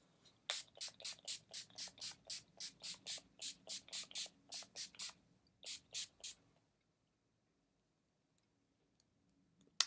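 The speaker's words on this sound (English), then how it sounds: "I'm going to do a first round of setting spray" A rapid series of short makeup setting spray bursts onto a face, about fifteen quick pumps in a steady rhythm, close by, then silence.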